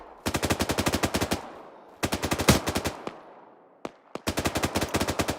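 Automatic gunfire in the military shooter Arma during a large team-versus-team battle in snowy terrain, with loud rapid bursts of machine-gun fire broken by short pauses and a few isolated single shots.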